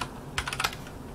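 A computer keyboard clicks in a quick run of about five keystrokes, close and fairly soft, over quiet background hum with no talking.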